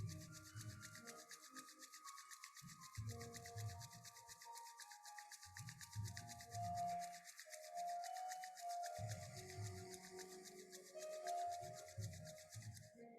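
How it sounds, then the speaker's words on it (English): Hands are rubbed together hard in an energy exercise, a faint, steady rasping friction under soft, sustained musical tones. "Try to relax your shoulders and just rub your hands really powerfully."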